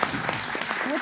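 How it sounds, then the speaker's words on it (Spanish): Audience applause at an international oral storytelling seminar in Chile, a brief steady patter of clapping filling the room, with voices mixed in. "Un aplauso, por favor, para Fanny Frenny."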